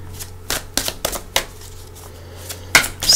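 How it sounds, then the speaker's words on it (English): A deck of cards is shuffled up close, a series of sharp riffling bursts and clacks in irregular rhythm with quiet gaps between them. "I like to shuffle once I hit record, because I like you seeing me shuffle also"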